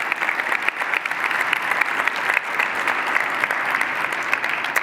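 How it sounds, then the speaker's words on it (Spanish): Steady applause from a live audience at an event for Argentina's economy minister, dense and continuous clapping filling the whole stretch at an even level with no talk over it. "Federico Furiase, Martín Botier, Felipe Núñez, me encanta que los aplaudan."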